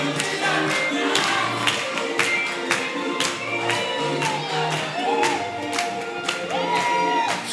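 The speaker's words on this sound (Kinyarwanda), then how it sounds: "mumumpera amashyi Yesu" A church congregation clapping for Jesus: steady, rhythmic group claps ring out alongside singing voices and music throughout.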